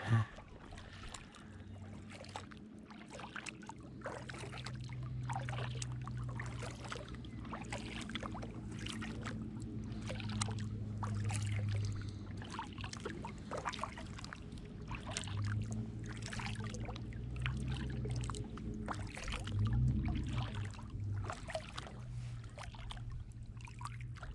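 A kayak glides across a lake at an Army Corps of Engineers campground near Muskogee, Oklahoma, with soft, regular paddle strokes dipping and splashing at a steady rhythm, quiet and close, over a low outdoor hum.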